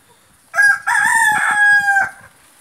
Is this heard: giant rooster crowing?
yes